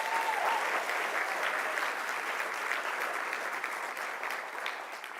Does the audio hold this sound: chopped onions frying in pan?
no